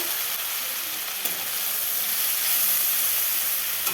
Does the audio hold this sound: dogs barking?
no